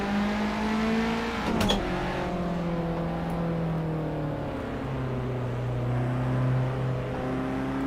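A Renault Alpine race car's engine in Assetto Corsa during a night touge run, a steady droning hum whose pitch slides down then climbs again, with a short sharp burst near the start.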